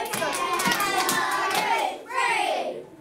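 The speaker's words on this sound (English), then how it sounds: "Clap a bit quieter." Schoolchildren in a Year 2 classroom clap out the syllables of a word, a few close, fairly loud claps that break off partway and then return briefly.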